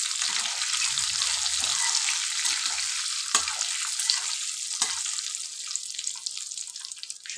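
Crushed spices frying in an oil-filled pan for a chicken dish: a steady, close, bright sizzle with a few faint stirring taps and no voices.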